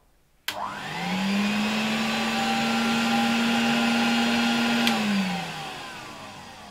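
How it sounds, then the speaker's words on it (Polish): A 1966 Alfa K2 vacuum cleaner with an SK-5b motor switches on with a click and whines up to a steady, loud drone. After about four seconds it clicks off and winds down. "dopiero teraz ten odkurzacz działa jak należy"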